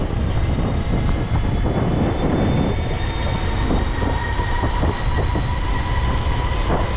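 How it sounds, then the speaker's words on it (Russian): An electric commuter train in Luhansk rumbles loudly and steadily nearby, motor whine rising in pitch as it picks up speed, with rhythmic wheel clatter. "Электричка газует."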